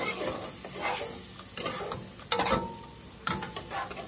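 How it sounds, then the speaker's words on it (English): Onions sauteing in melted butter in a soup pot, with a steady close sizzle and a spoon scraping and stirring through it, plus a couple of sharper knocks. "there's our melted butter and our sauteed onions"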